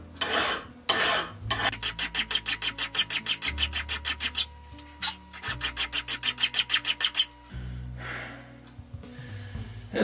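A metal T nut being hand filed in bursts of quick, even rasping strokes, close and loud, with short pauses between runs.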